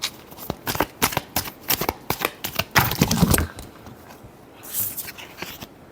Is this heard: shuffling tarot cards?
yes